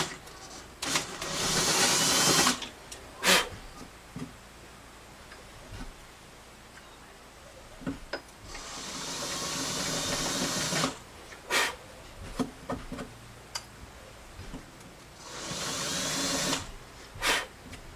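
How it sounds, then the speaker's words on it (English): Sanding on the bridge of a Harmony H162 acoustic guitar comes in three long, hissing bursts of abrasive scraping, separated by sharp taps and clicks of handling, close and fairly loud. "I hadn't figured on doing any more sanding, but I have to do a little more sanding"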